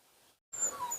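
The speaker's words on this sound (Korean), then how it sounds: "둘 중에 누가 낑낑 소리는 내잖아요" A puppy whimpers softly, giving thin, high, drawn-out whines that start after a brief silence, faint and fairly close with no talking.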